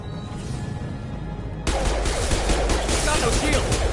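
Gunfire in a Mass Effect firefight erupts halfway through, a dense, loud burst of overlapping shots after a quieter stretch of background game noise.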